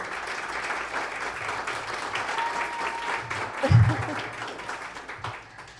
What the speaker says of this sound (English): If you want to give them a round of applause, welcome them.